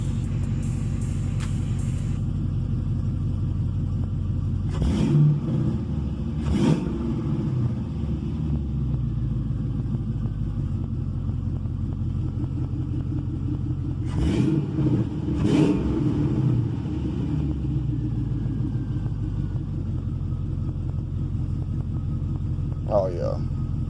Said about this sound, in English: Hear nothing but motor and exhaust. No fuel pump.